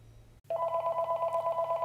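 A telephone rings with a steady electronic warble that begins abruptly after a short silence and continues loud and close to the end.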